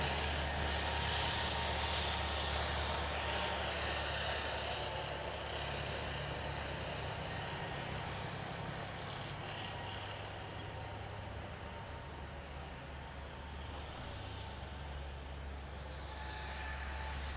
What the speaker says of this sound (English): You can see on the screen there, that's our assistant manager Jason driving that T-72